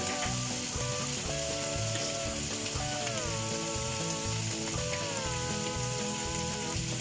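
Pasta sauce with chili flakes, black pepper and oregano sizzles steadily in a pan, a constant close frying hiss with soft stirring scrapes and faint music underneath.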